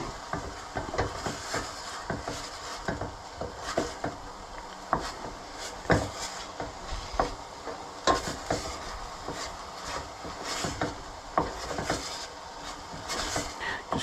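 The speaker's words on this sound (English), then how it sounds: "Just keep stirring and keep stirring so that it doesn't catch, but the onions cook." Onions stirred in a saucepan while cooking for a curry, with a constant soft sizzle and irregular scraping and clinking of the spoon against the pan, fairly close and quiet.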